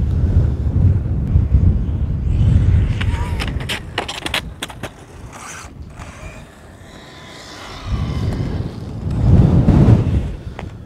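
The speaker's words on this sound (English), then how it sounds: "Oh, so windy." Strong gusts of wind buffet the microphone outdoors during RC car speed runs, rumbling loudly in surges at the start and end with a quieter lull between, over faint mechanical rattles and creaks.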